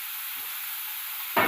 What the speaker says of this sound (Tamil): கட் பண்ணி வச்சுருக்க பச்சை மிளகாயும் சேர்த்துக்குவோம்.